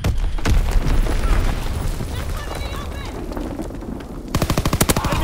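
A warship's primary battery fires in a World War II video game: heavy booming gunfire up front, sustained rumbling, then a rapid rhythmic burst of shots near the end, with a voice speaking over it.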